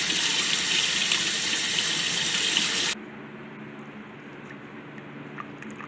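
Tap water runs loudly and steadily for about three seconds to fill a pet tarantula's water dish, then cuts off abruptly, leaving faint room noise and small clicks.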